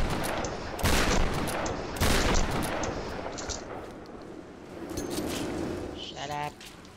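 Gunfire in the Tomb Raider video game, with several sharp loud shots and bursts over a busy background, plus a speaking voice in places.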